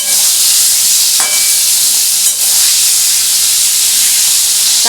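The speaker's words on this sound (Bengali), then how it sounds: "পটলটা আমি ভাজছি।" Pointed gourd (potol) frying in a pan: a loud, steady hiss and sizzle of hot oil, close and continuous with no pauses.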